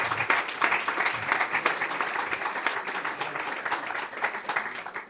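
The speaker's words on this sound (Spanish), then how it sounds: "Así que un aplauso para ella también." An audience at a conference breaks into warm applause, a dense patter of many hands clapping steadily for several seconds, with a murmur of voices underneath.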